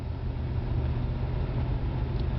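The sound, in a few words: 1981 Cadillac Coupe Deville 368 V8 accelerating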